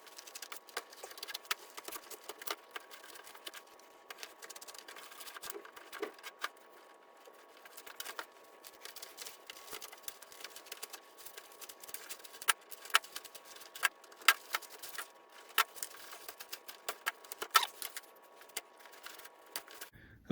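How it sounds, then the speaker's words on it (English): Leather lace pulled through the holes of a Rawlings closed-web baseball glove, a quiet, irregular run of soft ticks, scrapes and rubbing clicks continuing close up for about twenty seconds. "I should be able to just unlace that all the way around."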